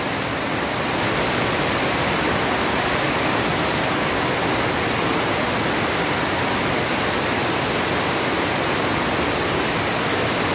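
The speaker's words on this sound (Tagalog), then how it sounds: "Ganyan na po yung current ng ilog." Swollen river current rushing strongly during a typhoon flood, a loud, steady broadband roar of churning water that holds unbroken throughout, with no voices over it.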